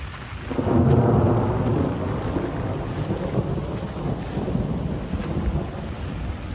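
A massive thunderstorm rolls through outdoors: deep, sustained thunder rumbles swell and fade over steady wind buffeting and rain noise, loud and continuous with no talk.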